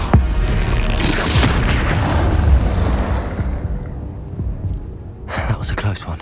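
A Confringo blasting spell goes off in the video game Hogwarts Legacy with a sudden loud boom, then a heavy rumbling decay that fades to near quiet before a few fresh crackling hits near the end.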